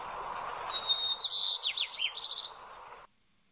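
A song of the Rocky Mountain Oriantha form of the sparrow, with a whistled start breaking into rapid chirps and a buzzy trill, heard alone over steady background noise before stopping abruptly.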